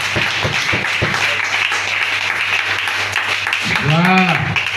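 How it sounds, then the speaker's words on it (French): A church congregation claps and cheers loudly in acclamation of the Lord, with voices calling out over dense applause and a sung or shouted note near the end. "On acclame très fort notre Seigneur"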